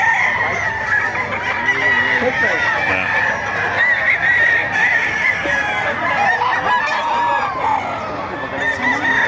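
A crowd of chickens clucks and cackles close by while roosters crow repeatedly at the Bocaue pet market, with people talking underneath the noisy flock.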